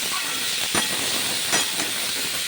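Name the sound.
papaya and potatoes frying in a pan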